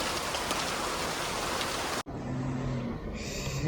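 Rain pouring down outdoors in Karnataka, a dense loud hiss that cuts off abruptly halfway, then continues more softly with a low steady hum underneath.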